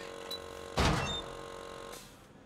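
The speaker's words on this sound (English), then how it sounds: "I opened the front door and moved." A front door opening in The Culling video game, a single loud thunk and creak that decays over about a second, with faint ambient hum around it and no talking.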